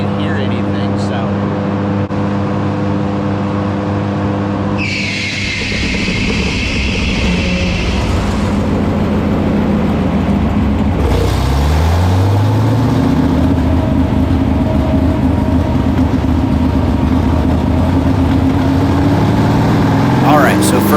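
A car runs on a dyno at a tuning shop, its engine loud and droning in an enclosed room, with the revs rising and falling in sweeping pitch changes and a shrill whine partway through, continuous for the whole span.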